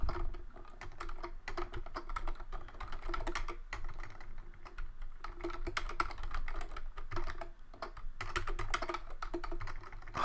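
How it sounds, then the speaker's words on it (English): Rapid typing on a computer keyboard while writing Objective-C code, a dense, fairly quiet stream of key clicks with brief pauses between bursts, no talking. "I can't type today."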